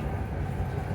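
Steady low rumble of an airport train in motion in snowy Helsinki, Finland, a continuous rolling drone with faint rattling, close and even throughout.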